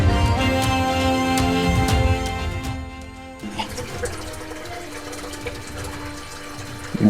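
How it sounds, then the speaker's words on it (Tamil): Water pours steadily from the mouth of a Nandi statue at a Shiva temple during pradosham, a continuous close splashing rush that dips briefly midway before carrying on. "நந்தி வாயிலேருந்து தண்ணி வருது."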